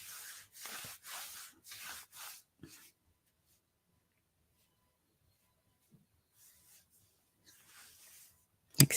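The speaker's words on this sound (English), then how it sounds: "Rub yourself." Hands rubbing over the body and arms during a guided self-compassion exercise, a soft repeated friction swishing in several short strokes, close and quiet, followed by near silence and a few faint rustles.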